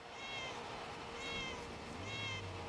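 Cat meows used as a car horn in the Forza Horizon 5 video game, three repeated mewing calls evenly spaced over steady engine and game background noise.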